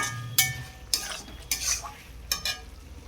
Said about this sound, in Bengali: মিট মশলাটা এখন দিয়ে দিচ্ছি, এটাকে ভালো করে কষিয়ে নিলাম